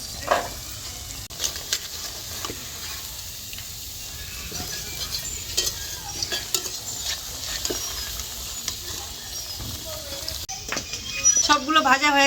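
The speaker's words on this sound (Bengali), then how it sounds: "লাল লাল করে ভেজে তুলে নিচ্ছি" Vegetable manchurian balls frying in oil in a wok give a steady low sizzle throughout, with occasional bubbling pops and a brighter crackle near the end, while a voice talks over it at times.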